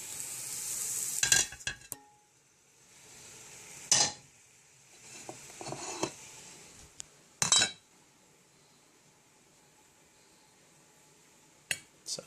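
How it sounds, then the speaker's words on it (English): Freeze-dried zucchini sautéing in a pan: a faint continuous sizzle broken by several bursts of stirring and scraping with clinks of a utensil against the pan, no talking. "Sauteed zucchini"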